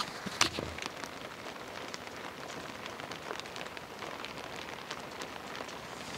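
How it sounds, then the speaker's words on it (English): Rain patters on an attic roof, a steady soft hiss dotted with many small drops and one sharper tap near the start, quiet and continuous with no voices. "It just started raining up on the roof."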